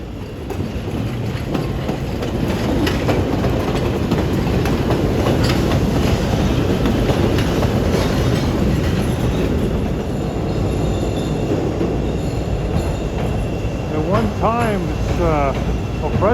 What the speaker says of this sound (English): Here comes a Yellow Line train in from Skokie right now.